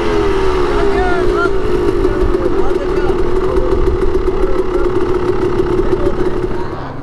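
Motorcycle engines idle on a mountain trek in the Sredna Gora range, with a steady, loud, continuous rumble and drone filling the whole stretch and easing off slightly at the end.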